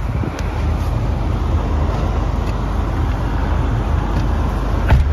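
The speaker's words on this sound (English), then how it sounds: "Let's take you on a short test drive" A 2015 Subaru WRX on a road test drive gives a steady broadband rumble of engine and tyre noise with wind, fairly loud and continuous for about five seconds, with a brief bump near the end.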